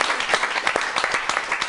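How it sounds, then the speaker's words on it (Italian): Studio applause from the Mantovana Junior youth football club greets a return to a local TV football show, a dense, steady patter of many hands clapping at close range with no voices. "Bentornati a Calciomania con l'applauso della Mantovana Junior a Colicà"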